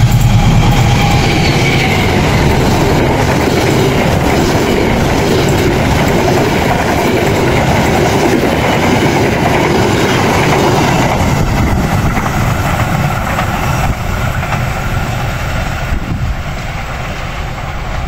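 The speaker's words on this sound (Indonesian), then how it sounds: "kereta yang akan melintas berikutnya adalah kereta api Argo" The Argo Merbabu passenger train rumbles past close by, a loud continuous roar of wheels and carriages with rattling clatter that holds steady throughout.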